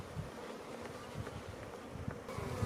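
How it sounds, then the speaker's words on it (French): A secondary swarm of honeybees clustered near beehives around their queen gives off a continuous close buzzing hum, steady with slight flutters of wingbeat, alone without voices. "il y a un essaim qui s'est posé près des ruches d'un apiculteur"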